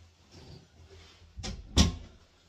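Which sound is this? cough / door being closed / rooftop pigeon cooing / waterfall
door being closed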